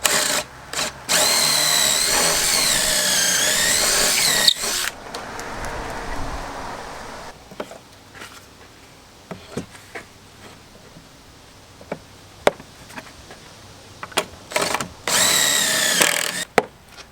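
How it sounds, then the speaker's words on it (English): Power drill boring pocket holes into cabinet wood for a kitchen build, with several loud whirring bursts at the start and end and clicks and knocks of handling between them. "I'm going to start drilling the holes for the pocket holes here"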